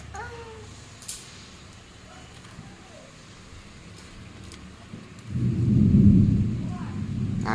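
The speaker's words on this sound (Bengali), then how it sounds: "আকাশ ডাকছে মা।" Thunder rolls in the distance during a storm. A deep, swelling rumble builds after a quiet stretch and stays loud until the end, while faint voices can be heard in the background.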